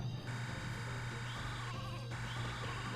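Sheep bleating in the video game Space Station Silicon Valley, a steady nasal game-animal call repeating over a constant low electronic hum and music bed, fairly loud and continuous.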